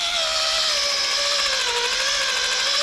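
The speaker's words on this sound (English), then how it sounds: "So I'm lightly polishing over it." A power tool lightly polishes the lettered surface of a stove during appliance restoration, giving a steady, close, continuous high whine with a drifting tone and no talk.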